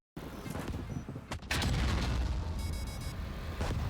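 Heavy tank cannon blasts in the video game CW Project boom twice in quick succession, followed by rumbling, crackling explosion debris and a brief ringing tone.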